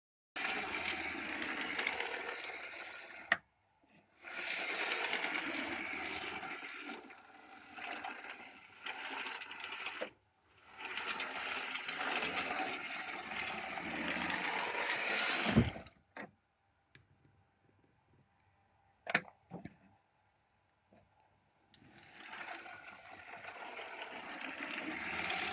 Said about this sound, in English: here we have the French Lima locomotive running the rails